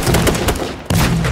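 Gunfire in the battle royale video game H1Z1 rattles out as a rapid burst of loud, close shots, breaks briefly, then resumes.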